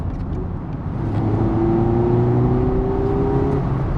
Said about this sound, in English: I think I'm going to change down again.